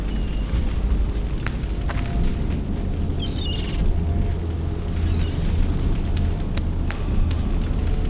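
Fire closes in during a scene from The Suffering video game: a dense, continuous low roar and rumble, with scattered crackles and pops breaking through for about eight seconds.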